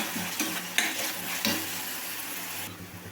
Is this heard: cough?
no